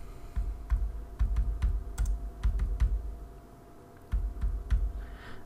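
Clusters of soft, thudding keystrokes on a computer keyboard as digits of a mobile number are entered, coming in short bursts with a brief pause, close and with no talk.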